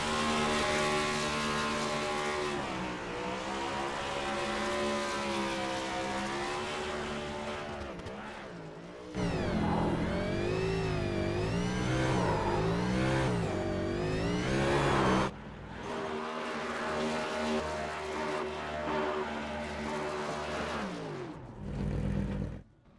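A race car, the number 57, revs hard during a post-race burnout after a Bluegrass Cup Series chase race at Bristol. The engine roars loud and close, its pitch sweeping up and down almost nonstop, with brief dips between bursts of throttle.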